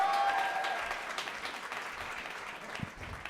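Audience applauding after an Avengers: Age of Ultron trailer is shown, a full burst of clapping that gradually thins out over a few seconds, with faint crowd noise beneath.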